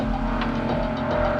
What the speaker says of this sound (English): If the rest of the LC500 wasn't quite so special, you'd call the 5-litre V8 under the bonnet the standout feature.